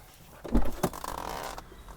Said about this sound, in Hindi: वो दरवाजा खोलना